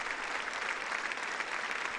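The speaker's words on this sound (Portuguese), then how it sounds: "Um longo aplauso que" Long applause from dignitaries, civil society and diplomats at the close of a speech during World Youth Day 2023, a dense, continuous roar of clapping from a large crowd, steady and loud throughout.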